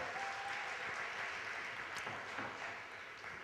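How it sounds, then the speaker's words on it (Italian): Audience at a 2008 dance solo competition in Forlì applauds a 13-year-old dancer: sustained, dense clapping from a crowd in a hall, fading slightly toward the end. "13 anni, un applauso."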